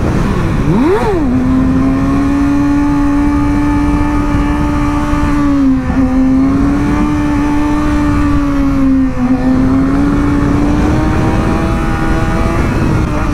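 A motorcycle engine drones steadily while riding, loud and close, with a quick rev at the start and small dips in pitch as the throttle shifts, under constant wind noise and no talk.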